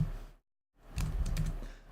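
Typing on a computer keyboard during a Swift programming session: after a short silence, a quick run of soft, close keystroke clicks, with no talk.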